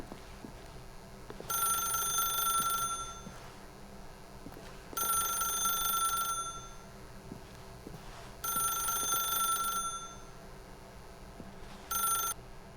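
A telephone rings in The Stanley Parable video game, four clear electronic bursts spaced evenly about every three seconds, loud and alone with no talking.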